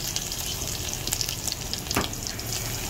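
Ginger and garlic sizzle steadily in hot oil in a pan, a close, continuous crackle with an occasional stir and no talking.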